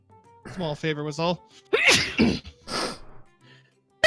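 A sharp sneeze bursts out partway through, with people talking in a casual indoor exchange before and after it.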